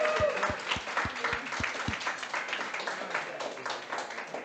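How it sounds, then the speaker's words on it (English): Scattered applause from a small audience at an evening talk show, modest and fairly close, with a few sharp low thumps early on before the clapping thins and trails off. "So give a round of applause to yourself."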